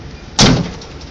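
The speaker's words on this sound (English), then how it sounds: "I'm going to make sure that the doors open and close freely" A semi-truck tractor door swings on its hinges during an inspection, giving one loud, sharp bang or clunk followed by a brief rattling decay over quiet background noise.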